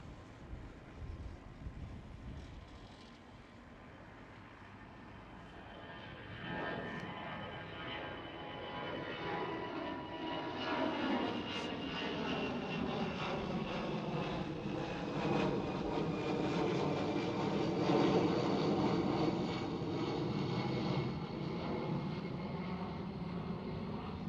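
An EasyJet airliner passes over Schiphol Airport, its jet roar swelling from distant to loud and close, with a sweeping rise and fall in tone and some wind buffeting, under occasional talk.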